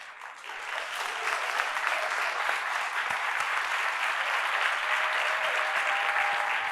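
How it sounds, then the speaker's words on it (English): A large audience gives the children a standing ovation at a school back-to-school address, with dense, sustained applause that fills the room evenly from start to finish. "Can we give our kids a standing round of applause?"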